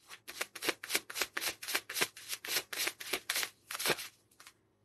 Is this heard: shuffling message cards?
yes